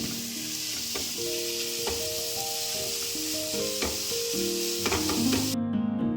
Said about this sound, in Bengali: লাউটা জল ঝাড়িয়ে রেখেছিলাম সেইটা দিয়ে দিচ্ছি দিয়ে আমি ভালো করে একটু ভেজে নেব